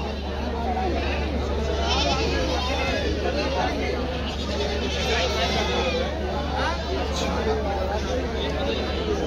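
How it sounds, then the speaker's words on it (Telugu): Sheep bleat repeatedly amid the dense hubbub of a crowded livestock market, calls overlapping with steady crowd chatter and background noise throughout. "ఈరోజు ఇంకా చాలా మందంగా ఉంది, మార్కెట్కి ఎక్కువగా గొర్రెలు రావడం జరిగింది"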